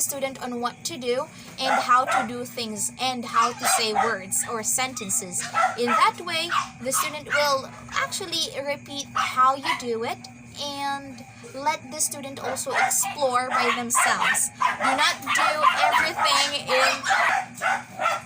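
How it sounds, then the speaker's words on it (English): Several dogs barking and yipping in the background, intermittent and moderately distant, beneath someone speaking continuously indoors. "Sorry for the background noise of the dogs"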